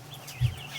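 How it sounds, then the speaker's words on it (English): A brief, soft peeping call from Muscovy ducklings huddled in a pen, a single close chirp rising over quiet background. "Oh, we got some ducks in here."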